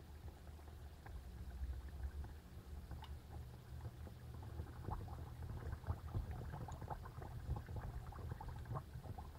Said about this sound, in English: Let's drop them inside the oil.